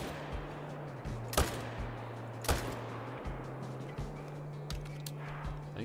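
AR rifle fired from a hunting tower in theHunter: Call of the Wild: two sharp, loud gunshot cracks stand out a second apart, with fainter reports over a steady low hum and no talking.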